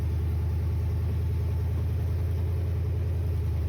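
Megacab square body short bed dually truck on its first drive, with a steady low engine rumble and drone holding loud and constant throughout.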